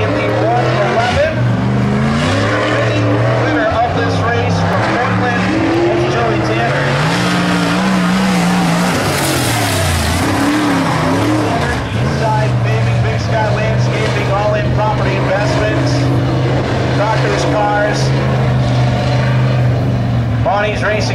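A super late model stock car roars around the Sunset Speedway oval at a loud, steady pitch, its engine note rising and falling through the turns, while an announcer talks over the track noise.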